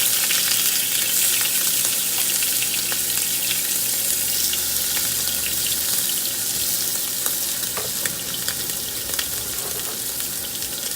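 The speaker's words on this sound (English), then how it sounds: "you wanna actually like let them sear in that olive oil" Shrimp sear in hot olive oil, giving a loud, steady, close sizzle and crackle that runs the whole time with no pause and no talking.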